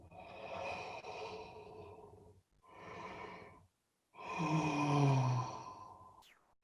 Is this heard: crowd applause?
no